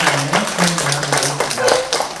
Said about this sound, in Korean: 강의해 주신 우리 교수님께 다시 한번 큰 박수로